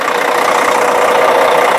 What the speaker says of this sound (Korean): 엔진 소리 정말 아, 기분 좋게 카랑카랑